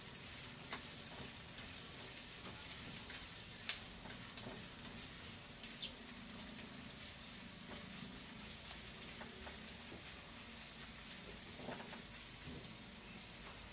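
Sliced onions fry in hot oil for pancit bihon, a continuous crackling sizzle with scattered pops and occasional stirring clinks, close and steady throughout.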